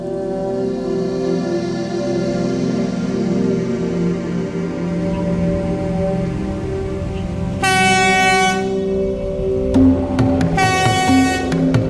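A train rumbles steadily past, loud and near, and sounds two long blaring horn blasts close to a railway station in the Araku area. The second blast is broken into short pulses.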